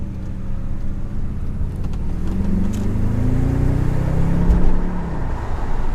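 A 2003 Audi RS6 Avant accelerating hard along a road, heard from inside with a window down: a deep engine roar climbs in pitch and loudness over several seconds, mixed with wind and road noise.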